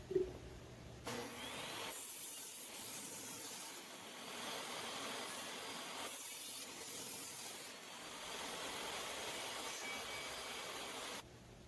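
Table saw ripping a section of 2x6 lumber into strips, a loud sustained whine broken by short drops between passes, cutting noise steady across most of the stretch with no voices.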